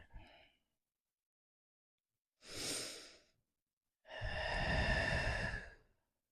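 Slow, deep breaths in yoga child's pose: a short exhale, then a soft inhale, then a long, audible sighing exhale, close and quiet with silence between.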